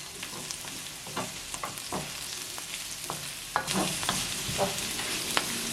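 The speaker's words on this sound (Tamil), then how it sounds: "இன்னும் கொஞ்சம் வதங்க விடுவோம்." Vegetables and chana dal sauté in a pan for upma, a steady close sizzle punctuated by repeated scraping and clacking stir strokes, with no talking.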